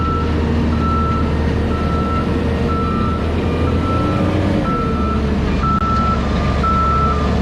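Dump truck carrying heated aggregate at a road paving site gives off a loud, steady series of high reversing beeps, repeating at a regular pace over a constant heavy engine rumble.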